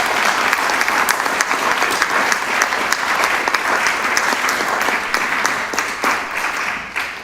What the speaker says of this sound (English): Why don't we start with a round of applause for Mrs.